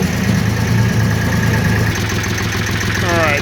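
Farm Pro 25 hp 4WD tractor with power steering and loader running in high gear: a loud, steady, continuous diesel engine drone close by, with a short voice near the end.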